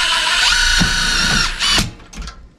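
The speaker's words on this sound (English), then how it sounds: "Let's see if we can take these 3/4 inch self-tapping screws and get in there." Power drill driving 3/4 inch self-tapping screws into a metal chimney band on a wood stove chimney install: a loud, close, steady whine that rises as the screw seats, then stops, followed by a short ratcheting burst.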